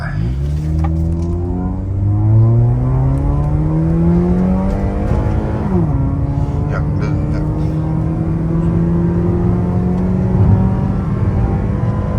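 A tuned Honda Civic FD running 95 gasohol on 17-inch wheels revs hard and accelerates, its engine note climbing, dipping briefly at a gear change, then droning high and strong close by.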